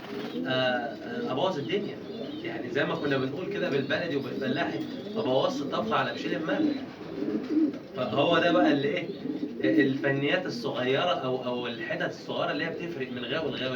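Pigeons cooing in a loft of well-kept breeding pigeons, soft repeated coos running under continuous close male speech throughout.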